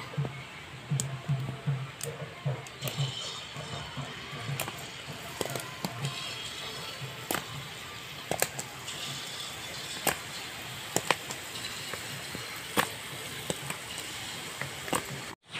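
Potato jalebi fry in hot oil, a soft steady sizzle peppered with sharp crackles and pops scattered irregularly throughout, close and fairly quiet, with no voices.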